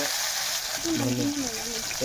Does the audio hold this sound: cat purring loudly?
no